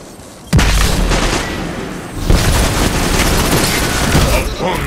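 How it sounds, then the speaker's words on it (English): A grenade explosion during a Destiny 2 Trials of Osiris PvP match: a sudden loud, deep blast hits, followed by a second impact and then continuous rumbling gunfire and combat noise. "Threw a grenade."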